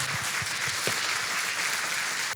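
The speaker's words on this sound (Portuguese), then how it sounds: "Vamos aplaudir o nosso Deus bem forte." A church congregation applauding, a dense, steady wash of clapping from many hands that carries evenly and cuts off at the end.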